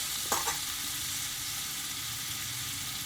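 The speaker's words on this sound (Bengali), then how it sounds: "আলু পেঁপেটা কিন্তু আমি ভালোভাবে কষিয়ে নিয়েছি" Potato and papaya pieces stir-fry in a pan for a Bengali vegetarian dish, giving a steady, close sizzle with a brief scrape of stirring near the start.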